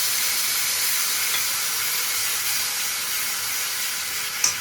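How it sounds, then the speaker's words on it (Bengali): Onion and green chilli paste sizzles in hot oil, alongside fried prawns in a pan, as a loud, steady, close hiss that barely changes, with one brief click at the end. "এবারে আমি এই তেলের মধ্যে এই পেস্টটা দিয়ে দেবো, পেঁয়াজ আর কাঁচা লঙ্কা পেস্ট"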